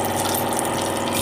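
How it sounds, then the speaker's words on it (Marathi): Cumin seeds and curry leaves sizzle and crackle in hot oil in a pan, a steady close hiss filling the whole moment with no talk over it. "तेल चांगलं गरम झालं आहे. त्याच्यात जिरं, कढीपत्ता"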